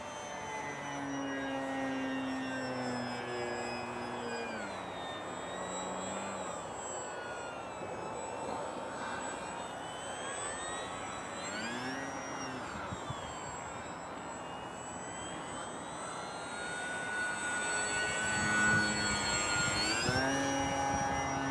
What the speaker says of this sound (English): Somebody's having a lot of fun with their new plane.